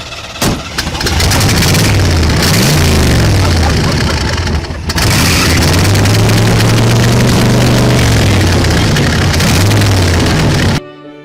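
A restored car's engine cranks, catches and fires up, then runs loudly with rising and falling revs, briefly dipping before revving again and cutting off abruptly near the end; voices are faintly present.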